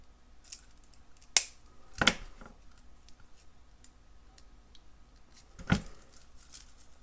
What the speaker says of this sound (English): I'm going to go ahead and snip off the excess.